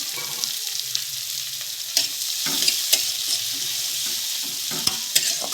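Chopped onion frying with cumin seeds and a dried red chili in a pan, giving a steady close sizzle with occasional sharp pops and stirring scrapes throughout, no voices.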